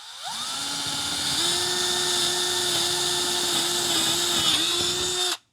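A power drill spins up and bores straight into a wall to mount a swan neck, a loud steady whine that rises at the start and holds for about five seconds before stopping abruptly.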